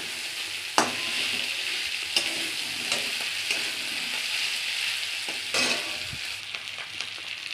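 Flat beans (sheem) fry in a pan with a steady, fairly loud sizzle, broken by a few sharp scrapes and taps as they are stirred.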